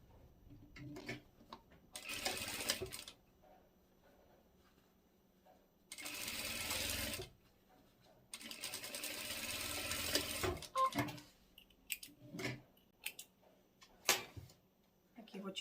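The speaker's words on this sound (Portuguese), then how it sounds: "Costura para um lado e costura para o outro." A sewing machine stitches the seams of a double-sided fabric tote in three steady whirring runs, each a few seconds long, close and loud. Between them come quiet pauses with someone talking and small handling clicks.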